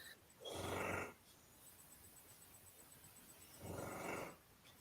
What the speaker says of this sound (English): Oh, can I hear a dog in the background there snoring?